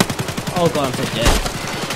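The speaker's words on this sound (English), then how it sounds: "The bullets are still going off. I can still hear it." Rapid bursts of automatic gunfire crackle in Escape From Tarkov, a dense loud volley of shots repeating quickly throughout the short stretch.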